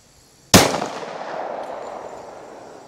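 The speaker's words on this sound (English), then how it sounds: "I'm gonna run 5 rounds across the chrono through each one of these, 5 through the 22 and 5 through the 20." A single Glock 22 pistol shot firing a .40 S&W round over a chronograph, one sharp loud crack followed by a long fading echo, with no voices.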